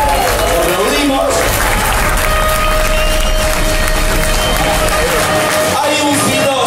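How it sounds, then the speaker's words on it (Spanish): A concert audience at La Trastienda applauds a rock band's album producer, giving dense, loud, steady clapping with some cheering throughout and a few voices mixed in. "Lo aplaudimos."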